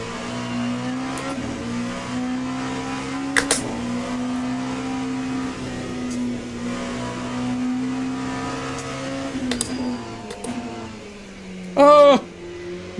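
A race car engine in the sim game Le Mans Ultimate hums steadily at a fairly constant pitch, with scattered clicks and a short, sharp, louder burst near the end.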